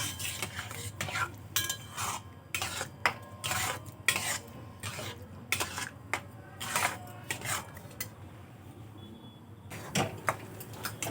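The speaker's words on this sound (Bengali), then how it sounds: "এভাবে নাড়াচাড়া করে একটা ডো তৈরি করে নেব" Milk being stirred into flour for pitha dough, heard as a series of quiet clinks and scrapes of a utensil against a bowl in uneven bursts, with soft background noise and pauses between strokes.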